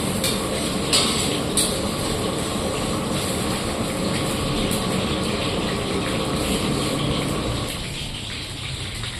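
Urad dal sizzles in hot oil over a low flame, a steady, dense frying hiss that runs almost unbroken and eases off slightly near the end.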